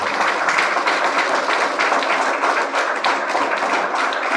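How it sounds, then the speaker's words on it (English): A business-chamber audience breaks into loud, sustained applause, dense rapid clapping filling the room evenly from start to finish with no speech on top. "Please give a round of applause to this powerful lady."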